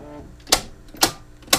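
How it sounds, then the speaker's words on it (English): Three solar inverter transfer switches on a DIY ground-mount solar system click on one after another, three sharp evenly spaced clacks about half a second apart, close and fairly loud over a quiet background. "It turns on the 3 transfer switches."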